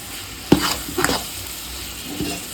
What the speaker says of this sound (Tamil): இது இந்த எண்ணெயிலே கொஞ்சம் வதக்கி விடுவோம்